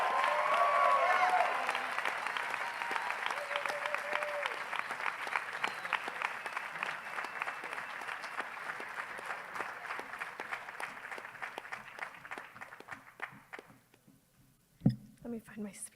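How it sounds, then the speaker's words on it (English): Audience applause fills a high school graduation ceremony, loud dense clapping that gradually thins and fades over several seconds, with scattered individual claps and a few faint voices as it dies out. "give us a big round of applause"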